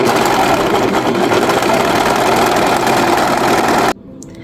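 A loud, noisy sewing machine stitches a seam in a steady rapid mechanical whir that stops abruptly near the end, leaving faint room sound.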